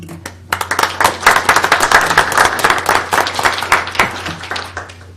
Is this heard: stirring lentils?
no